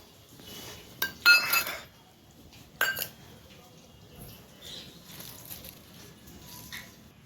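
Bowls clinking as kadhi and chutney are served in a home kitchen: a few bright clinks of dishes and a short clatter early on, with quieter handling after and faint background sound.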